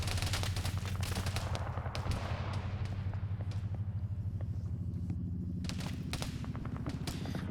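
Machine gun fire in a PvP video game match, a dense rapid rattle of bursts running steadily through the whole stretch over a low rumble, with scattered sharper shots.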